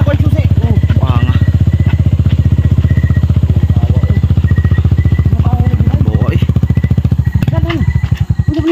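A motorcycle engine runs steadily throughout with a loud, rhythmic putter, close by, revving slightly near the end.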